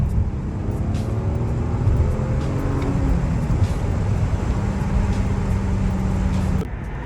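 A BMW 735i's six-cylinder engine drones steadily from inside the car while driving. The low rumble mixes with road noise, a faint rising-and-falling engine tone runs under it, and there is no talk.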